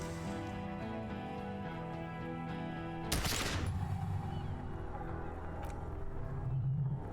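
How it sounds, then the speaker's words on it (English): A single loud gunshot blast fired in the video game Disco Elysium cuts sharply through a steady game music bed, followed by a brief ringing tail as the score continues underneath. "Plume of smoke and fire erupts from the gun, and your hand goes numb from the explosion."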